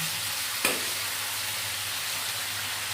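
Tangra fish dropped into a pan of fried potatoes for a Bengali fish dish, with a sharp burst of sizzle on contact that settles into a steady, even frying hiss, close and without speech.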